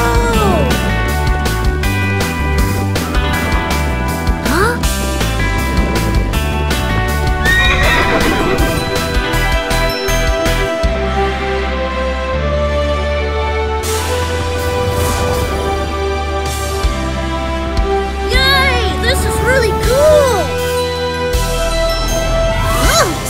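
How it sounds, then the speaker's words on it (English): A cartoon Pegasus, a winged horse, neighs and whinnies loudly over a continuous music score, with clip-clopping hooves and occasional jingling mixed in. "I'm riding a Pegasus!"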